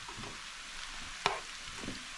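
Cabbage, broccoli and carrot stir-frying for chicken chow mein, a soft steady sizzle with one sharp scrape of a utensil in the pan and faint stirring sounds.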